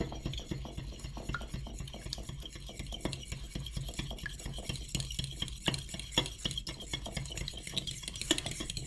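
Boilie mix for carp bait being whisked in a bowl, a steady run of quick scraping strokes with utensil clicks against the bowl, close and continuous with no talking.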